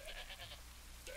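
Goats in the Dawn of Man video game let out short, faint bleats, a quick run of them followed after a pause by one more, under a soft game background hum.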